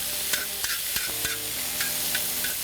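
Blackened flank steak with peppers and onions frying on a fire disc grill, a steady sizzle broken by sharp scraping and stirring strokes from a utensil, close and fairly loud, with no voices.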